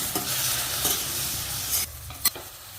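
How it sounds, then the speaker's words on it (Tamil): Tomatoes and onions fry in a pan for a potato side dish, a dense close sizzle with spoon scrapes that drops quieter partway through, followed by a single sharp clack of stirring. "தக்காளி நல்லா வதங்கணும்."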